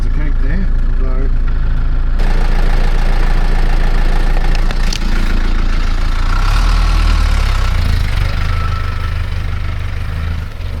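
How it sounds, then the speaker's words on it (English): A Land Rover Perentie engine idles and runs loud and close from inside the cab just before heading off-road, a steady low rumble that shifts partway through, with talk over it. "Alright, we're in the Land Rover. I'm about to go off-road."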